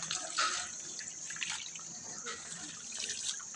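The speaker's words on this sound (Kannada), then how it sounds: "ನೀರು ವೇಸ್ಟ್ ಹೋಗ್ತವನ, ನೀರು ವೇಸ್ಟ್" Water runs to waste from a tap, a faint, steady splashing trickle with soft drips, fairly quiet and unbroken throughout.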